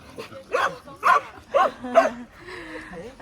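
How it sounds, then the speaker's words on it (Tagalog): A dog barks four times in a steady rhythm, fairly close, followed by a softer whine with faint background noise. "May aso, guys"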